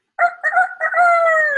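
A storyteller's voice imitates a rooster crowing, a few short harmonic calls rising into one long drawn-out crow, loud and close, with no other sound around it.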